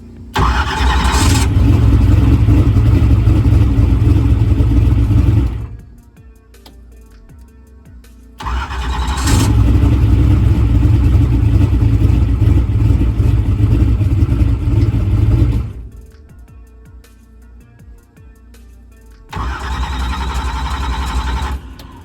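A car engine with water in the heads and block cranks and roars into loud revving, cutting back to a low rumble between three sustained bursts, close and dominant.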